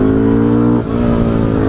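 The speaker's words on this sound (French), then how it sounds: "pour lancer ce vlog, quoi de mieux qu'un petit wheeling, on va essayer de vous faire ça propre" A motorcycle engine revs hard during a wheelie on a cold, rainy ride, a loud, close, sustained roar with a brief dip in pitch midway before climbing again.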